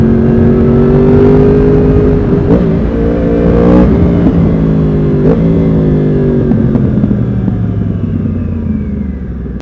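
A loud Yamaha R1 motorcycle engine runs close by on a cold day, with the pitch rising and falling through several revs before it settles back toward idle.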